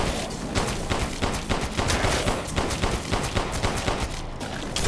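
Dense, continuous gunfire from Resident Evil Village, with rapid overlapping shots and bursts forming a steady loud barrage that runs through the whole stretch without pause.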